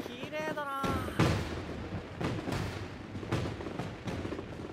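Fireworks bursting in Assassination Classroom, with several sharp booms spaced across a few seconds and a crackling tail after each. A voice is heard near the start over the first explosions.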